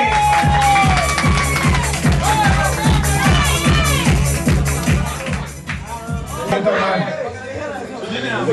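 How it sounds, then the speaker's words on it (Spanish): Cheers, whoops and crowd chatter at a Premios Papucho awards gathering ring out loudly over a steady pounding beat, sustained throughout with a shrill whooping voice rising near the end. "hay que darle el aplauso a quien se lo merece"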